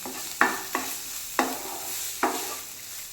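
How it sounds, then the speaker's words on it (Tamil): Boiled potato and paneer fry in a pan under a steady, soft sizzle. Four sharp scraping stirs break through it at uneven intervals. "போட்டுட்டு நல்லாவே ஃப்ரை பண்ணிக்கலாம்."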